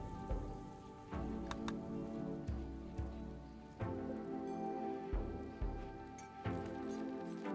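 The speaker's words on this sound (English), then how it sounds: "It's raining" Rain falls in the RimWorld video game, a steady soft patter on surfaces with brief ticking drops, playing faintly and evenly throughout with no talk over it.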